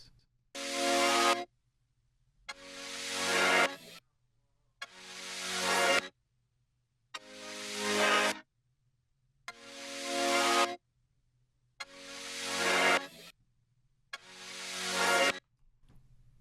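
A chopped disco pad sample plays as seven evenly spaced bursts of bright, hissy chordal synth, each swelling for about a second and a half before cutting off, with a low hum underneath.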